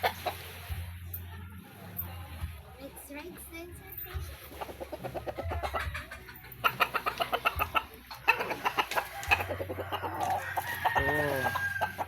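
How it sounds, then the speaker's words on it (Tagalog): Brown laying hens cluck in short bursts close by, with a rooster crowing partway through amid soft background noise. "Ito yung brown naming manok. Nangingitlog na."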